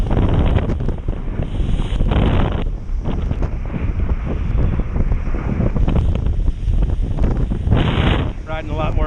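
Loud, constant wind roar buffeting the microphone while kiteboarding on a Duotone Spike board under a 12m Switchblade kite, with splashing water beneath the gusts throughout.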